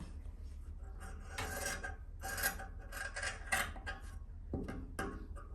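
Scissors cut straight through fabric for sewing a garment, giving soft, close rasping snips and rustling in an uneven rhythm with no talking.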